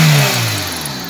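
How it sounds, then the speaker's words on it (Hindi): A used car engine runs with the hood open, giving a loud, close, steady mechanical hum that eases slightly in level over its brief span, with no voices over it. "ये देखिए आप गाड़ी का इंजन खुला हुआ है, और ये आप साउंड देखिए, नॉर्मल साउंड कह सकते हैं हम इसे"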